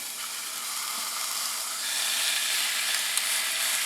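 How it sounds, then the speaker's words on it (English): Food sizzling inside a Ninja Foodi XL air fryer grill, a steady close hiss and crackle that brightens slightly midway, with no talking. "I hear the sizzle, right?"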